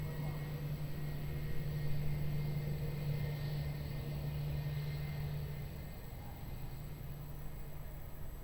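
An airliner taking off at Lisbon Airport: a steady, distant jet roar and low rumble that rises gently and then eases, with a faint steady hum running underneath.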